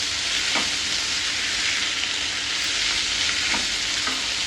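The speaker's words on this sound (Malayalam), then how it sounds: "എന്നിട്ട് വീണ്ടും സോട്ട് ചെയ്യുക" Capsicum and other vegetables sizzle loudly in a pan over high flame for restaurant-style veg chowmein, a dense, continuous frying hiss broken by a few soft knocks of stirring.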